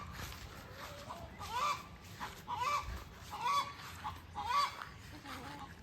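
Year-old hens and a rooster in a homestead coop run give about five evenly spaced, fairly close calls over a quiet background.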